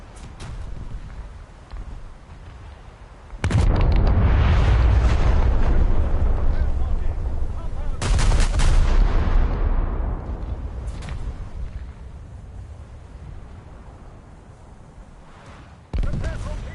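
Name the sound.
big guns firing in War Thunder video game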